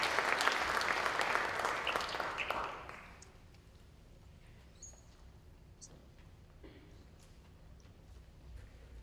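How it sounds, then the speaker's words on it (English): Audience at a recognition ceremony applauding student award winners, a loud burst of many hands clapping that fades out after a few seconds into a quiet room with faint scattered sounds. "Give them one more round of applause."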